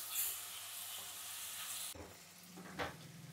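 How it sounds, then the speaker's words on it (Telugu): Onion pieces frying in a pan give a soft, steady sizzle, broken by a couple of scraping strokes as a spatula stirs them. "ఉల్లిపాయ ముక్కలు బాగా వేగాలన్నమాట."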